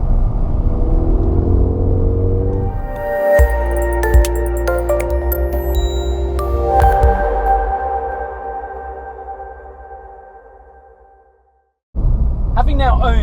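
A Ford Fiesta ST3 hot hatch gives a deep, loud rumble that sweeps downward over a few seconds, then electronic tones and a fading hum take over before a sudden burst at the end.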